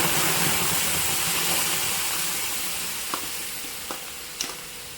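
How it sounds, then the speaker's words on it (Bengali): Palm fruit pulp bubbles and sizzles in a wok on a gas stove, a steady loud hiss with a few soft knocks of stirring near the end. "এবার আমি নাড়াচাড়া করে ফুটিয়ে নেব তালের পালটাকে ফুটিয়ে নিতে হবে"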